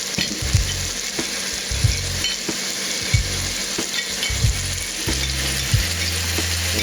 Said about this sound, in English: Turn our temp down a little bit and slow cook our steaks.